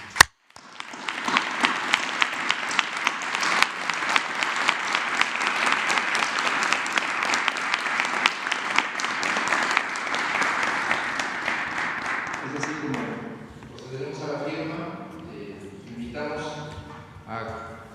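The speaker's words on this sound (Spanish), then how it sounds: "yo propondría un aplauso por este entendimiento" Applause at a presidential press conference, a dense, steady round of clapping from the room lasting about twelve seconds, then fading as a voice begins speaking over the tail.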